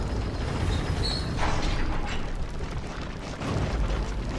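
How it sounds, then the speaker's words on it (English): An elevator ride in the video game Bloodborne, heard as a continuous low mechanical rumble and grinding drone with faint creaks, steady and fairly loud throughout, with no talk. "You can ride the elevator"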